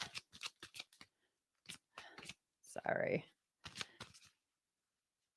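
Tarot cards are shuffled by hand in a string of quick, crisp riffling bursts, stopping and starting, with one brief spoken word in the middle.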